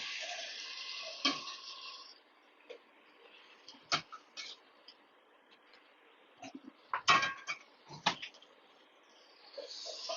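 Mint, coriander and green chillies being stirred as they fry in a pot for chicken biryani: scattered spoon scrapes and clinks against the metal over a faint, quiet sizzle, with irregular knocks and gaps between strokes.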